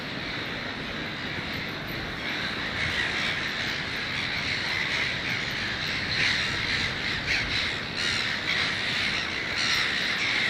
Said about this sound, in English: And they're noisy gulls,